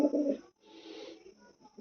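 Pigeons coo in a few low, throaty bursts nearby, soft and close with short gaps between calls.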